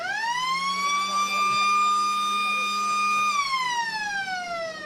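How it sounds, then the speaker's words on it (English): A long, loud halftime siren at an Australian rules football match holds a steady high pitch for about three seconds, then slides downward as it winds off, with faint crowd noise beneath. "And there's that siren we just mentioned."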